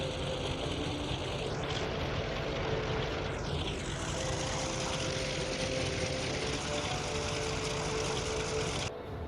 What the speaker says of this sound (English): Tailhook retracted, he taxis past the island and into position.